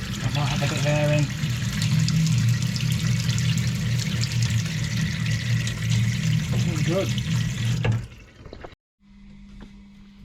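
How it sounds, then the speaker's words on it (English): Water runs steadily from toilets refilling after a boiler repair, a continuous rushing flow under brief nearby talk, then it cuts off suddenly near the end. "The running water you can hear is just the toilets filling up, I think."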